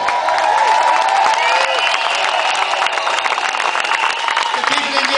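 A crowd at an outdoor Gaza solidarity demonstration in Dublin cheers and claps, a dense, continuous roar of voices and applause from many people close by.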